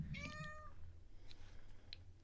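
A house cat meows once in a short, bright call near the mic, with a faint steady hum filling the rest of the moment.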